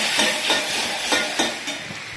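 Chili, turmeric and tomato sizzling steadily in hot oil in a pan, a continuous loud frying hiss with soft periodic stirring scrapes and no voices.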